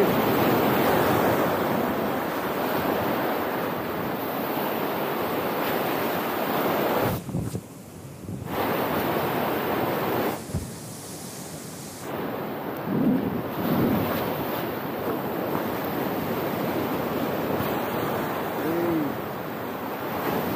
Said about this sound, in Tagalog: May kalakasan pa tong alon